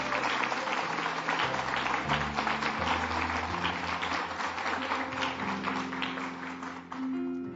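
Church congregation applauds for the Lord during a Spanish-language sermon, a dense, sustained wave of clapping with a faint sustained tone beneath, fading slightly near the end.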